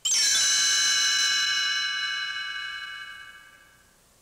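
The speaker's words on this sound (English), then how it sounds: "You'll know it's time to turn the page whenever you hear the chimes ring like this." A single bright chime strikes once, its clear ringing tone sustaining and slowly fading over about four seconds, used as a page-turn signal for a read-along storybook.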